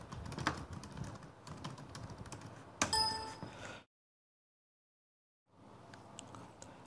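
Activity names entered on a computer keyboard for construction scheduling in Primavera software, soft rapid key clicks with a brief brighter clack, a full pause, then quiet typing resuming.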